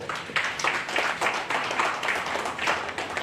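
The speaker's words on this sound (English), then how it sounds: "A round of applause, please." A workshop audience at an Electoral Commission media training opening claps together in a short, steady burst of applause, heard from a moderate distance.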